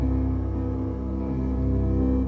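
An instrument heard dry and unprocessed, straight through an Ableton instrument rack, holds a soft, steady, sustained tone with gently pulsing texture, fairly quiet and without voices.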